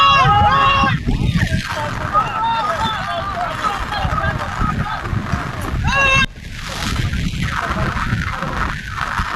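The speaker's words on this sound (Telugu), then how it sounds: "ఇలా వాగులో కొట్టుకుపోతున్న ఆ వెహికల్ ని మనం చూస్తున్నాం కదా" Floodwater rushing through a swollen stream during heavy rains in Medak district, sweeping a car away, a loud steady roar and slosh under continuous background talk and crowd voices.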